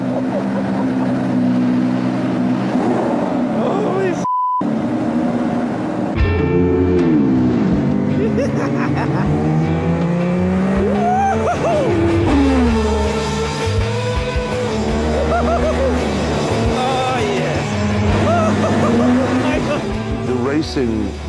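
Ayrton Senna's mid-1980s McLaren Formula 1 car, a 1200 hp turbo racer, roars close by with its engine pitch rising and falling through gears and corners, briefly cutting out, while someone talks over it.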